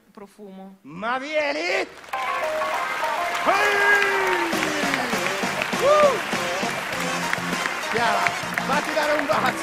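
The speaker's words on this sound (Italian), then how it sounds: "Un applausone a Chiara!" A live theatre audience bursts into applause and cheering at a mentalist show, the clapping swelling and holding steady under a man's excited, amplified voice speaking over it.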